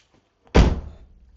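A Ford Fiesta ST MK7 car door slams shut once with a loud, close thud that decays quickly into quiet.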